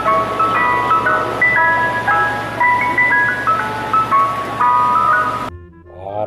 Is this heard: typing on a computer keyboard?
no